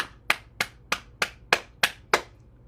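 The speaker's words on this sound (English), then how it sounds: "All right, clap your hands." Eight sharp hand claps in an even, steady rhythm during a bouncing exercise routine, close and crisp, with no talking over them.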